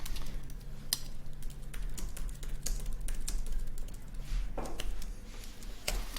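Someone types a curl command on a computer keyboard: a quick, irregular run of light key taps and clicks, close and fairly soft, over a low steady hum.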